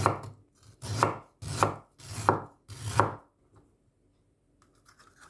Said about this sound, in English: Slice some ginger.